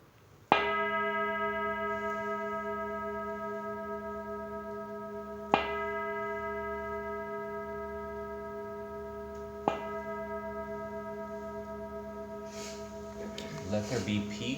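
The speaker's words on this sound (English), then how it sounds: "I'll sound the bell." A meditation bell is struck three times, about five seconds apart, each strike ringing out with a long, steady, slowly fading tone. Faint murmur and rustle follow at the end.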